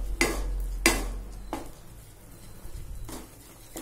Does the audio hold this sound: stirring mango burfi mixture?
yes